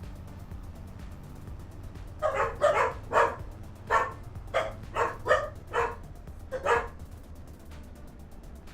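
Dogs barking in a run of about ten sharp, fairly close barks, spaced unevenly over a low steady background hum, with a quieter stretch before and after.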